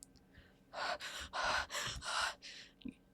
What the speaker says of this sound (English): you just barely manage to keep yourself from falling to the floor as you gulp in huge gasps of air